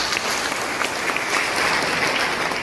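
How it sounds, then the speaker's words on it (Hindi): Audience clapping together at a motivational talk, a steady dense wash of applause that holds evenly for the whole stretch, with no voices over it. "जब आप दिल बोल के तालियां बजा दो।"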